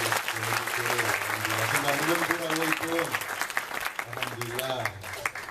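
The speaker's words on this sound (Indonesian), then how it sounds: "Tepuk tangan untuk ibu-ibu dari" An audience claps and cheers at a religious gathering in Indonesia, with sustained, dense applause throughout while a voice speaks over it through a loudspeaker.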